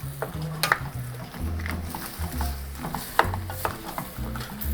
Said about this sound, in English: Another bay leaf, why not, right? And I'll stir that all in.